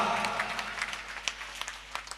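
Audience applause at an All India Mushaira poetry gathering in Bahorabagh, Jabalpur: a steady wash of many hands clapping with scattered sharper claps, moderately loud and continuing for about two seconds.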